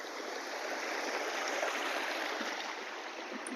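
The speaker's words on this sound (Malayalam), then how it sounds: "വെള്ളത്തിന്റെ സൗണ്ട് കേട്ട് ലാസ്റ്റ് കണ്ടുപിടിച്ചു" Stream water flowing near a waterfall in a forest, a steady rushing hiss of moving water, constant and fairly soft, with no voices.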